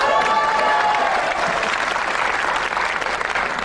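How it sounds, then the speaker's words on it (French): A studio audience on the French TV game show La Roue de la Fortune bursts into sustained, loud applause that fills the entire stretch evenly, with no speech heard over it. "Antoine Lecon est avec nous, je vous demande de l'applaudir d'ailleurs"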